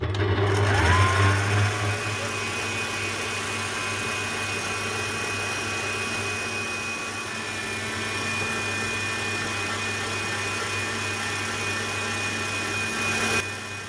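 Steady electric mixer whirring as eggs are beaten one at a time into quatre-quarts cake batter, a continuous close motor hum with no talk.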